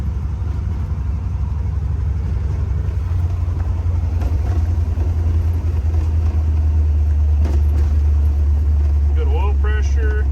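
A salvage-yard Dodge Charger fitted with a salvage-yard transmission cruises along a road, its engine a steady low rumble heard from inside the car throughout, with faint rattles and a few brief chirps near the end.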